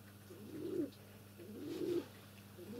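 Pigeons cooing close by, two drawn-out low coos with a third starting, soft and alone against a quiet room hum.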